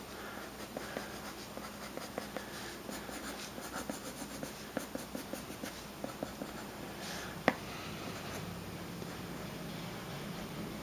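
A regular number two graphite pencil scratches across paper while an undersketch is drawn, soft close strokes in quick irregular bursts with one sharper tap, over a faint steady hiss.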